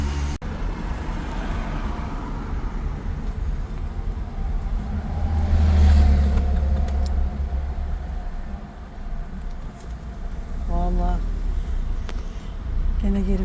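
Heavy road traffic rumbles past on a congested highway, with low engine drone from cars, buses and trucks swelling midway as a large vehicle passes close; people talk briefly over the steady roadway noise.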